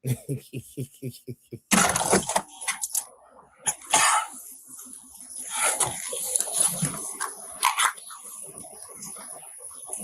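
A dog barks in a quick run of sharp yaps, then people talk loudly over a high whine, with a few more barks and scuffling.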